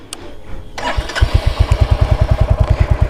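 A brand new Royal Enfield Hunter 350 motorcycle engine starting close by: a brief cranking whir, then the single-cylinder catches and settles into a loud, even, thumping idle pulse.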